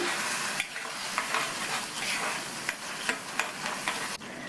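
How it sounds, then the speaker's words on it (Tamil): Tomato paste stirs and fries in hot oil, a dense steady sizzle broken by several sharp scrapes of a spoon against the pan, close and alone without voices. "தக்காளி பேஸ்ட் சேர்த்து 2 நிமிஷத்துக்கு நல்லா இந்த மாதிரி மிக்ஸ் பண்ணி விட்டுக்கணும்."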